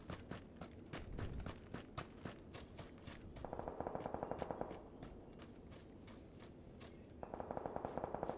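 Gunfire in the video game PUBG on the Erangel map: quiet, rapid bursts of automatic shots crackle in clusters over a faint background, mixed with lighter footstep-like taps.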